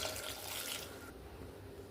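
Water is poured into a pressure cooker holding potato, onion, tomato, ginger and green chilli for a potato curry. A soft splash and trickle runs for about a second, then fades to a quiet drip.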